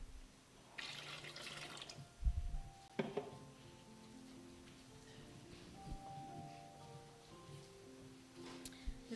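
Water from a creek poured out during a church ingathering ceremony, soft trickling and splashing with small drips and clinks at a modest, close level, no speech.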